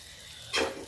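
Boiled potatoes added to onions already fried in a pan and stirred for a Shimla mirch aloo curry, giving a quiet scrape that breaks into a loud sizzling burst and then a second short sizzle near the end.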